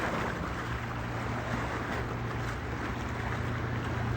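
A 28-foot Crownline motorboat runs on open water, its steady low engine hum blending with rushing water and wind noise in a constant, even wash.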